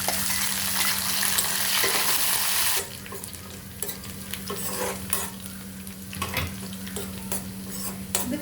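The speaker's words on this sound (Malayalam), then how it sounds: "ലഡുവിൽ അണ്ടിപ്പരിപ്പും മുന്തിരിയും വറുത്തിടാൻ വേണ്ടിയിട്ട് ഞാൻ 2 ടേബിൾ സ്പൂൺ നെയ്യ് ഒഴിക്കുന്നുണ്ട്" Cashews and raisins fry in hot ghee for Diwali laddu: a loud, steady hiss and sizzle at first, then quieter crackling mixed with scraping stirring sounds in the pan.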